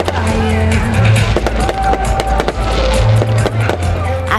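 Vibrant fireworks burst during a homecoming finale with lasers at Schoellkopf Field, a dense, loud run of rapid cracks and pops layered over a steady rumbling roar.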